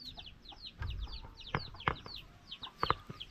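Chickens cluck close by in short, scattered bursts over quiet outdoor background at a rural nipa hut, with a few sharper squawks near the end.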